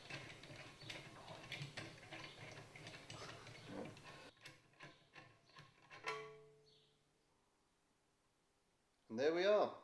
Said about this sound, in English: And then we unscrew the mandrel